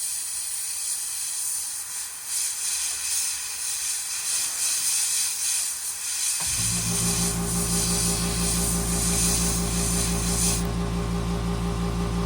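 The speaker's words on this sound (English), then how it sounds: "Sorry for the compressor. My compressor that I use a Fortrex. It's a dual tank." A Fortrex dual-tank air compressor used for airbrush painting custom fishing lures kicks on midway with a loud, steady motor drone and hum, following a quieter stretch of faint hiss, close and with no talking.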